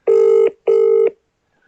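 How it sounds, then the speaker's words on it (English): Outgoing telephone call ringing, live on air, heard as two loud electronic ring tones, each about 0.4 seconds long and separated by a short pause, with no voices during them. "I'm ringing James Wales live."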